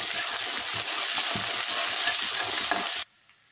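Onion, cumin and green chili fry loudly in a pan while a spoon stirs them in repeated scraping strokes over the sizzle, which cuts off abruptly near the end.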